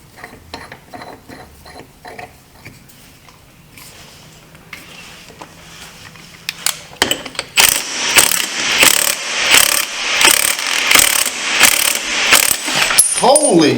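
A ratchet works a socket on a 2009-2014 Can-Am Spyder RS during a starter clutch bearing job: a few sparse clicks at first, then loud, rapid bursts of ratcheting strokes close by, with no talking.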